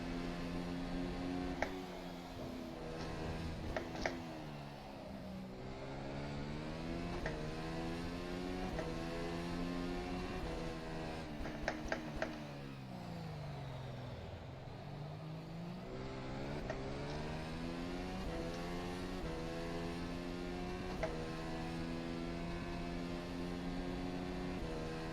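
An F1 2020 FSR car in rFactor 2 laps Suzuka, its engine rising and falling through gears with steady whining revs, a deep dip as it slows for a corner, then climbing again, close and continuous.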